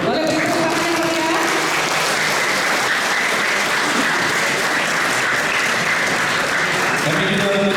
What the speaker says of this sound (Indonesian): Boleh beri tepuk tangan ya?